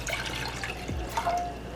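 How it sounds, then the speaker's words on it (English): Water pours briefly into a pan on a stovetop, a short close splash with a light trickle and a faint ringing note as it settles. "I'm going to put my 2 cups of water"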